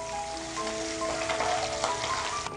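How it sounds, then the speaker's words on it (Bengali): Eggs sizzle in hot oil for a Bengali egg curry, a brief steady frying hiss with background music and a faint clink. "এবার আমি আস্তে আস্তে এর মধ্যে ডিমগুলো একটু অল্প করে ভেজে নেব।"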